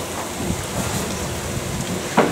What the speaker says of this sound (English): Drip, drip, water dripping off of everywhere.